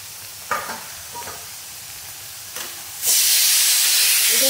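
Broad beans frying in oil in a pan: quiet stirring clacks over a low sizzle, then a loud, sudden hiss bursts in and holds steady to the end.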